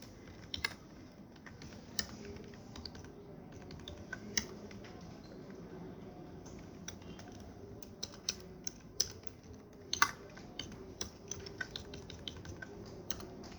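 Keys on a computer keyboard are typed steadily and fairly quietly, a stream of irregular light clicks with a few sharper taps, heard over a low background hum with no speech.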